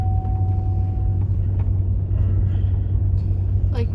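Steady low rumble of a car driving along a road through tornado damage, heard from inside the vehicle, continuous and fairly loud with no talking.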